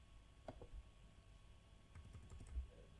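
A few soft keystrokes on a computer keyboard while writing code, faint scattered clicks over a low background hum, with no talking.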